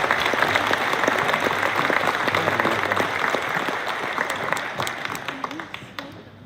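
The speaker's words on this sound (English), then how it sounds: "Please give our varsity men's and women's teams a round of applause." An audience at a school sports awards program applauds the varsity men's and women's teams, dense sustained clapping from many hands that thins out toward the end.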